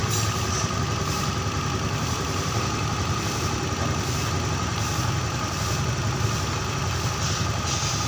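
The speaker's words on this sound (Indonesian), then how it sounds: "nyalakan lagi. Kita coba cek RPM-nya" A Honda Beat injection scooter engine idles after a rebuild, a steady, even putter with a constant drone, heard close and continuous throughout.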